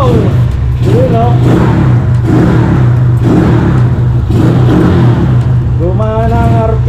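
A 2011 Skydrive 160cc motorcycle engine idles and is revved in repeated surges, loud and close, while someone talks over it.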